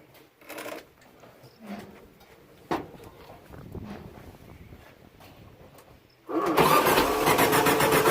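A Baja Bug engine cranks with a few starter clicks and rattles, then catches and roars into a loud, rough-running idle, heard close with no talking.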